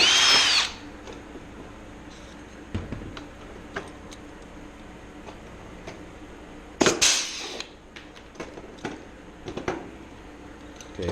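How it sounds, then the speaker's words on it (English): A power drill bores out a tight rivet hole on the flaperon of a Zenith 750 Cruzer kit plane, in short whirring bursts separated by quiet pauses and small clicks and taps of handling, close up. "I think this one I may have to drill out."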